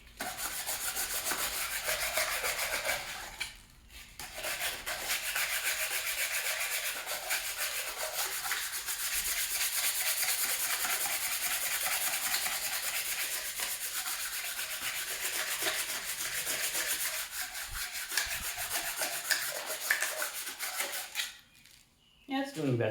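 Hand-sanding a part from a 1999 Ford Mustang Cobra with 180-grit sandpaper makes a rhythmic scratchy rasp of rapid back-and-forth strokes, pausing twice briefly.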